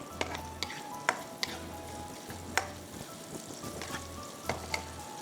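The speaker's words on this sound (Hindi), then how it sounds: "Chopped garlic, green chillies 2। थोड़ा सा इसको सॉटे करेंगे।" Chopped garlic and green chillies sauté in a pan for Schezwan fried noodles, a soft continuous sizzle broken by sharp scraping stirs and clacks at regular intervals, close and alone.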